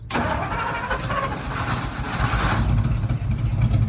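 A 1959 Ford F100 with a Y-block V8, a barn find running rich, cranks briefly and fires up, settling into a loud, rough, steady idle close by.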